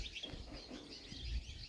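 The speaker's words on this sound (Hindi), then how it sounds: "तो ये जो चिड़िया की आवाज़ है ये यहाँ से आ रही है।" A flock of birds chirps faintly from a tree on an evening farm near Shimla, soft overlapping tweets over a low rumble of background noise.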